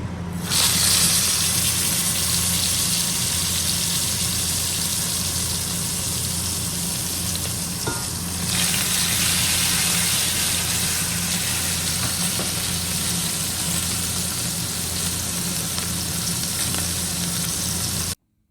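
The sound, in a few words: lamb shanks searing in a hot Fissler frying pan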